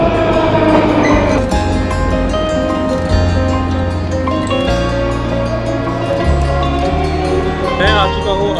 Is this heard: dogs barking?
no